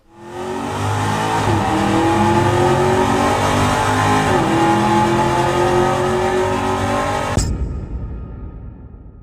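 A 2018 Chevrolet Camaro ZL1 1LE engine roars loudly and steadily at high revs, rising in pitch twice, then cuts off abruptly, leaving a fading rumble.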